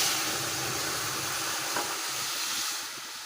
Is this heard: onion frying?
yes